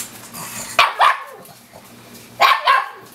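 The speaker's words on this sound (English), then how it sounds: "So she can't tell how loud she's barking." A small, hungry, somewhat deaf older dog gives two pairs of sharp, loud barks close by, with a short pause between the pairs. A low household hum runs underneath.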